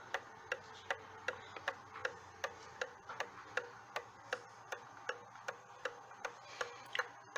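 A Waterbury cottage clock from around 1880 ticks steadily, its sharp, evenly spaced ticks repeating alone and close in a quiet room.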